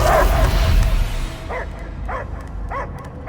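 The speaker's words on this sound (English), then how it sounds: "I hear only barking." A dog barks in the Guardians of the Galaxy video game, three separate bark bursts spaced about half a second apart following a louder, noisy opening, heard with no talking.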